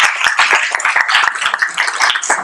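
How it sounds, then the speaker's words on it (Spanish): Audience applause for a presenter at an ecology event in Mexico: a dense, steady patter of many hands clapping together, sustained throughout at an even level without a clear break. "Pido por favor un aplauso a nuestro maestro en ciencias"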